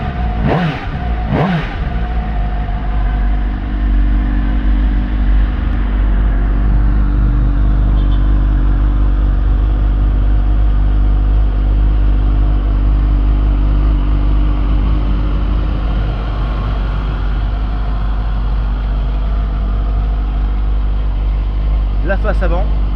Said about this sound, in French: un bruit assez sympathique pour un pot d'origine